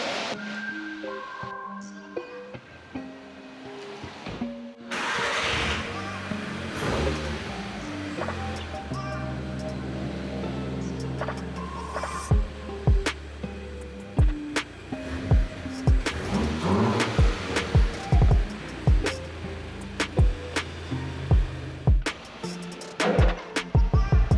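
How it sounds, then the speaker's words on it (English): A VW Golf R MK6 with a freshly installed engine idles, then pulls forward and reverses, the engine hum rising and falling, with clicks and knocks near the end and little talk. "let's go ahead and test to see if the car moves forward, moves back"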